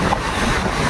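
Rough monsoon sea waves at Harihareshwar roar continuously, a dense close wash of surf mixed with wind buffeting the microphone.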